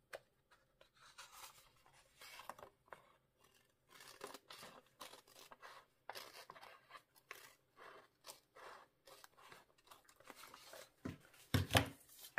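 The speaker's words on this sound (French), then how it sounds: "Ensuite, je viens couper les bords." Scissors trimming the edges of a scrapbooking page: quiet, close paper snips and crinkly rustles in irregular bursts, ending in a few sharper cuts.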